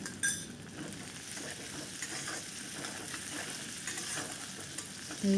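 Onion and tough culantro leaves frying in oil for a spicy fish curry, heard as a steady close sizzle with light stirring scrapes and a few clinks of utensil on pan.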